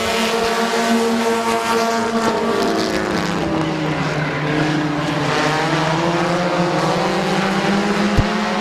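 Compact race cars roar around Midvale Speedway in a heat race, engines droning loud and steady throughout with shifting pitch as the pack passes, no voices audible.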